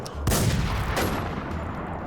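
Gunfire from the video game Infestation NewZ: a loud, sharp shot is followed by a dense, sustained burst of rapid firing, with a second strong report about a second later. No voices.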